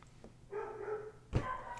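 Dogs barking in the background indoors, a few separate barks and a drawn-out yip, moderately faint and with gaps between them, no talking.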